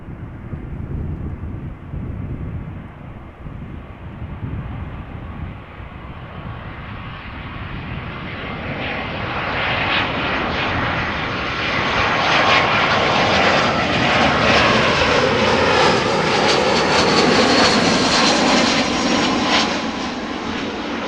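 Royal Jordanian airliner jet engines at Amsterdam Schiphol Airport, a loud broadband roar that swells and rises in pitch as the aircraft draws nearer, sustained throughout with no voices.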